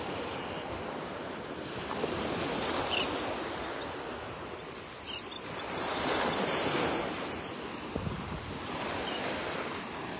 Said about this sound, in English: A little more wave action than we've had in the past couple of days, so the water is a bit churned up